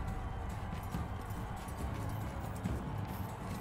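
Horse hooves clip-clop steadily in Mount & Blade II: Bannerlord, a busy rumbling mix of galloping hoofbeats and battle ambience with no voices.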